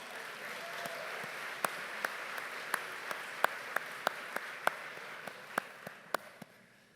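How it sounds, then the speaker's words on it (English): A small, sparse audience in a theater claps with scattered, separate hand claps over a quiet hall, moderately close and fading out near the end. "Give yourself a round of applause."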